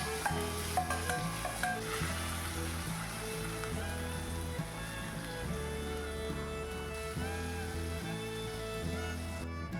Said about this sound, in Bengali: কড়াইতে 2 থেকে 3 চামচ মতো সর্ষের তেল দিয়ে দিলাম। তেলটা কড়াইয়ের গায়ে ভালো করে মাখিয়ে নিয়ে আমি মাছগুলো এবার ছেড়ে দেবো তেলে।